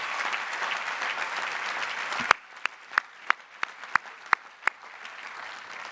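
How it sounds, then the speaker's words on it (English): A large graduation-day audience applauds graduates' parents and loved ones, a broad roar of clapping that cuts off abruptly and gives way to a handful of isolated, sharp claps fading out. "Let's give them a huge round of applause for all they have sacrificed"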